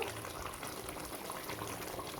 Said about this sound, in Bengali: আর আমি একটু পানি দিয়ে দিব।